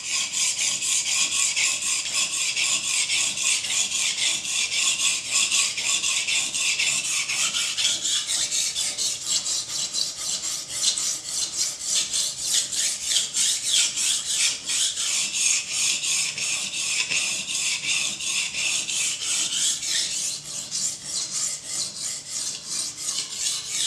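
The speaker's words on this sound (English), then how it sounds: "So yeah, let's get sharpening." A knife blade drawn by hand across a sharpening stone, a steady rasping scrape repeating in close, even strokes for the whole stretch, with no voices.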